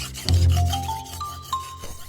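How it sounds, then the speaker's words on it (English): Li Guilin's sickle is sharpened for the sorghum harvest: one rasping scrape of the blade, close and fairly loud, then quieter grinding strokes with a faint ringing tone. "Li Guilin is carefully sharpening his sickle"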